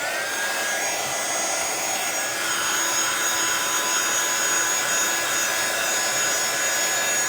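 A heat tool blows continuously with a steady, loud whirring roar while drying metallic ink on a handmade card, with no talking.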